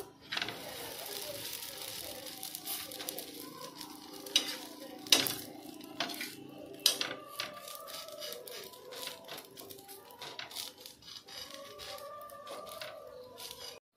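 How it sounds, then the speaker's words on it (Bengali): Butter naan sizzles in a hot pan, a soft continuous frying hiss broken by repeated sharp scrapes and clicks of a spatula, some louder than others, with no talking. "আবারও একটা বাটার নান ভেজে নিচ্ছি।"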